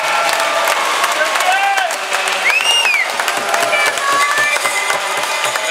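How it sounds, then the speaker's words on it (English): Travelling Brooks Bandits fans applaud and cheer in the Drumheller hockey arena after a win, a loud, continuous crowd roar with rising whistles over it and a commentator talking throughout. "plenty of applause from the traveling Bandit fans"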